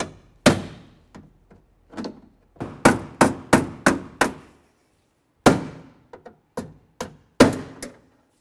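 Close, sharp hammer blows knock out a drilled door rivet on a Ford Ranger in irregular bursts, about fifteen hits with short pauses between them, no talking.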